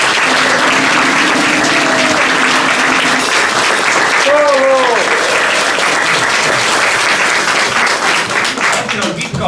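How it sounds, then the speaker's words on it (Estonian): Sustained applause from a village hall audience at an Admiral Pitka anniversary celebration, steady dense clapping throughout with a few voices calling out over it. "Aplaus perekond Mäinile ja Jalksemaa kandi rahvale, kes on selle ettevõtmise korda saatnud."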